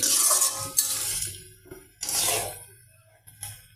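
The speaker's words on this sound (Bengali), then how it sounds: "তরকারিটা কষিয়ে নেই।" River fish curry with vegetable stems is stirred and sautéed in oil in a pan: three or four scraping stirring bursts over a soft sizzle, with brief clinks from the utensil against the pan.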